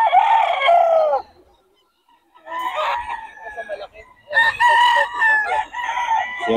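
A Sweater gamefowl rooster at a farm crows loudly and close, three long harmonic crows separated by short pauses, with a voice speaking faintly in the background.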